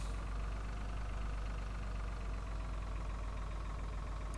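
A tractor engine runs steadily in the farming game Farming Simulator 2013, a constant low droning hum with no change in pitch or rhythm throughout and no talking.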